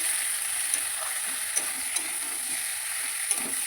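Pointed gourd (potol) fries in a pan, a continuous soft hiss of oil with a few sharp taps from stirring, fairly quiet and with no talk.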